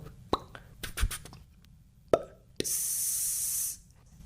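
A voice imitates a soda bottle opening: a few mouth clicks, then a sharp pop followed by a loud hiss lasting about a second.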